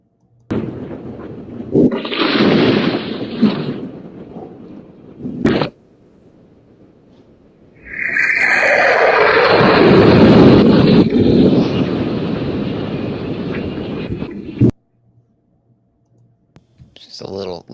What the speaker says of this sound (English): let's take a look at this hypersonic missile hitting Tel Aviv